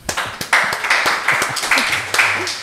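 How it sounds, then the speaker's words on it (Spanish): Applause and clapping for a guest on a podcast, a lively burst of several hands with repeated surges, close and fairly loud, with a brief bit of voice near the end. "Aplausos para Joana."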